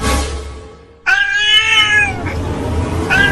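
A single loud, drawn-out cartoon cat meow rises out of quiet background noise, followed by the start of another brief cry.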